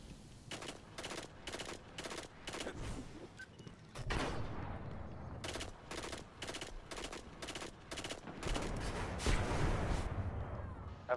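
Rapid bursts of automatic gunfire from a Destiny Trials of Osiris match, volleys stopping and starting over about eleven seconds and growing louder and denser toward the end.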